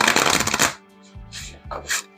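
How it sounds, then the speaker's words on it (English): A glossy cardstock oracle deck is riffle shuffled in one quick, crisp burst of flicking cards, followed by a few softer taps and shuffling noises as the cards are squared up. "But I do find them rather easy to riffle shuffle."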